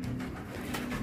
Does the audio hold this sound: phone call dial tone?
no